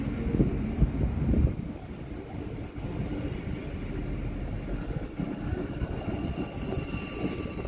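A Siemens Mireo train run by Agilis rolls along the rails with a steady, loud rumble of wheels and running gear, close by and continuous, with a brief heavier swell near the start and no voices.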